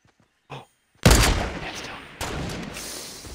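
Sniper rifle fire from an enemy in a video game: a faint click, then a loud sharp shot that rings out and decays, followed by a second heavy report about a second later.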